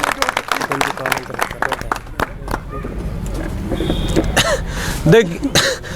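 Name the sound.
audience applause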